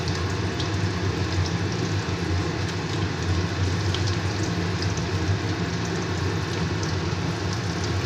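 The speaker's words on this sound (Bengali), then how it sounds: "মাছগুলোকে ভেজে নিচ্ছি আমার একদিক ভাজা হয়ে গেছে এবার অন্য দিকটা উল্টে দিচ্ছি" Pieces of bata fish frying in a pan, a dense, steady sizzle with crackling spatter that runs evenly throughout without pause.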